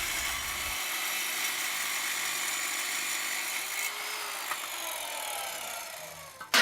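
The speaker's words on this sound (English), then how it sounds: "It actually cuts through this steel tubing pretty good." A chop saw grinds steadily through steel tubing for a Jeep TJ pickup build. The loud, continuous abrasive cutting whine holds for several seconds, shifts in pitch partway through, then winds down near the end.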